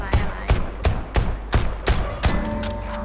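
Gunshots in Deceit 2, about eight sharp, loud shots in a steady rhythm roughly every third of a second, close and dominant with a faint tone lingering between them.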